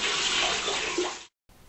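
Tap water running steadily into a sink during handwashing, a broad continuous splashing rush that stops abruptly, leaving a brief gap before faint room noise returns.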